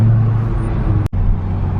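BMW M5 passing nearby on the street, a steady low engine hum with a brief dropout, heard from inside another car.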